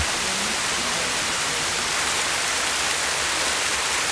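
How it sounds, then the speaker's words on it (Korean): A small waterfall pours between rocks, giving a steady, dense rushing hiss that stays even and fairly loud throughout, with no voices. "조금 걸어 올라가자 바위 틈새로 시원하게 쏟아지는 작은 폭포가 나타났다"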